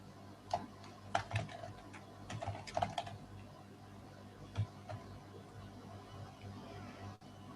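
Keys on a computer keyboard clack in short, irregular bursts, close and fairly quiet, trailing off into a few scattered taps and then near silence.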